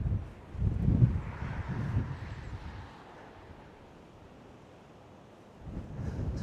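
Wind gusting at Blackgang viewpoint on the Isle of Wight, buffeting the microphone in low rumbling bursts that ease into a softer rush before picking up again.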